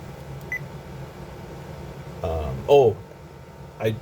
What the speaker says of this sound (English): you just heard the little beep